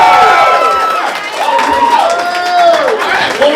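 Live roast battle audience in Hartford cheering and clapping for comedian Will Leonard, a loud steady crowd roar with whoops and shouts over scattered applause, with voices rising and falling throughout.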